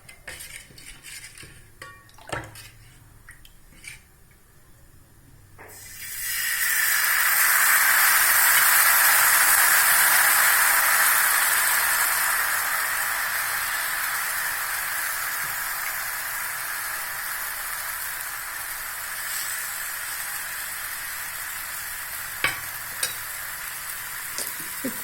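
Dosa batter hits a hot griddle with a sudden loud sizzle that swells and then settles into a steady frying hiss, preceded by a few quiet clinks of utensils.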